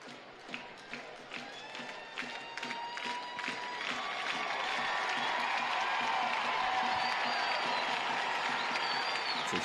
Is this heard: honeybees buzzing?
no